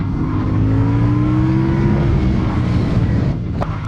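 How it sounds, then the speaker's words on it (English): A CFMOTO 450 CL-C motorcycle engine drops through its gears during a ride, a steady droning hum with falling pitch sweeps under continuous wind rush, close and fairly loud, with a brief click near the end. "Downshifting to 3rd, then to 2nd."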